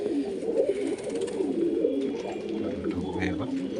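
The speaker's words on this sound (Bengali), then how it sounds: "খুবই শখের পায়রা আমার একটা নাজাদওয়াজ মুখো পায়রা" Pet pigeons, including a fancy-breed bird, coo in low, throaty rolling calls close by while someone talks over them.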